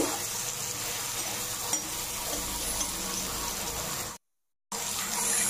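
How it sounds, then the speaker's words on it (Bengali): Tomatoes fry in a pan with salt, turmeric and Kashmiri red chilli powder, making a steady, close hiss and sizzle that cuts out briefly near the end before resuming. "এটি এখন 3-4 মিনিট একটু ভেজে নিচ্ছি টমেটো"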